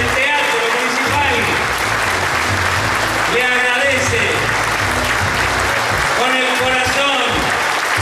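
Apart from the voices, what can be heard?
audience applause for Don Víctor at municipal theatre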